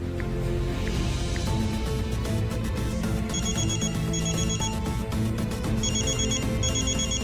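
A telephone rings with repeated electronic trilling bursts in a domestic drama scene, the ringtone sounding loud and steady with background music underneath.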